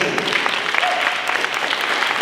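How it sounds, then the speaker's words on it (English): A crowd at a team event applauds in a brief, even burst of clapping with a faint murmur beneath. "can you give a huge round of applause to our awesome team?"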